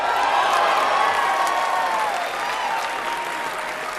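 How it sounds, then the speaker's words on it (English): Dense, loud applause from a large audience at the Bethesda Starfield Direct showcase, steady clapping with some cheering that eases slightly toward the end. "Applause break number 3."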